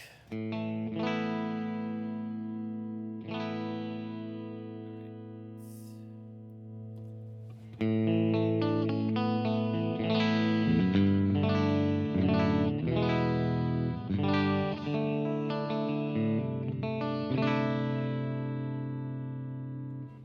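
An electric guitar plays a lead line through chorus and distortion effects, starting with sparse sustained notes, then a busier, louder melodic run near and clear.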